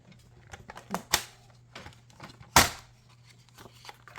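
A quarter inch is trimmed off a paper card, giving two sharp, crisp snaps about a second and a half apart, with faint soft rustles and handling noises between them in a quiet room.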